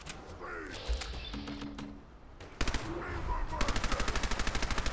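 A Johnson LMG machine gun in Fallout 4 fires a rapid, even burst of shots after a few earlier game noises and thumps. The burst is loud and close, and the rhythm stays steady to the end.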